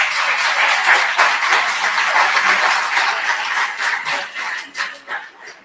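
Sustained applause fills a commemoration ceremony honoring the late labor leader Manuel Bustos, steady and fairly loud throughout, with scattered individual claps standing out and thinning toward the end.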